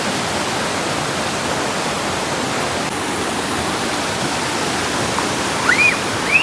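Aruvikuth waterfall rushing steadily as a loud, even broadband roar of falling water, continuous and close, with a brief faint chirp-like sound near the end.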